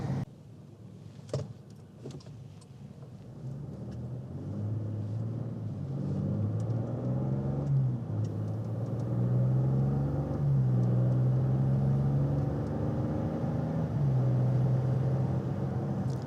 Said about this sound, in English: Just normal acceleration there in comfort mode feels good.